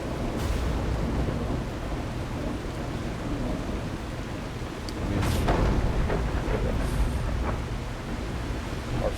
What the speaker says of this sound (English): That thunder sounds menacing.